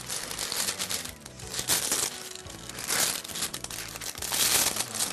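A parchment paper package being opened by hand, with loud, continuous close-up crinkling and crumpling that swells and eases in waves.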